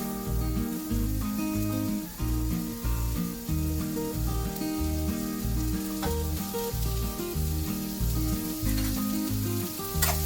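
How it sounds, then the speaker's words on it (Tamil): Two large, finely chopped onions fry in a couple of ladles of oil in a pan, a steady close sizzle running the whole time beneath loud rhythmic background music. "வெங்காயம் நல்லா வதங்கட்டும்."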